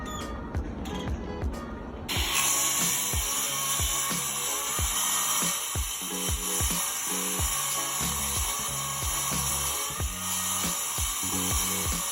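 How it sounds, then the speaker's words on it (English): A power sander works on newly bought wood outdoors during a desk build, a steady loud whirring drone with rhythmic pulsing that runs continuously after a brief quieter start. "This is finally gonna sand this wood that I bought."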